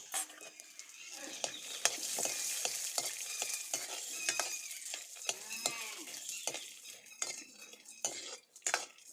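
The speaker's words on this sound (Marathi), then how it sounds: "लाल भाजून घ्यायचे शेंगदाणे शेंगदाणे चांगले भाजलेत" Peanuts roasting in hot oil in a pan for a spicy Maharashtrian brinjal masala, with steady sizzling broken by repeated scraping and stirring clicks of a spatula against the pan, a voice talking intermittently over it.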